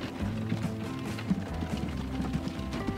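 Horses clip-clop steadily while pulling a carriage in a train video game, the hoofbeats mixed into a busy layer of game music and mechanical sound.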